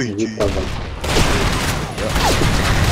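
Dense gunfire in the video game Blackshot, a fast fusillade of game shots that starts softer and turns loud and steady after a moment, with voices talking over it.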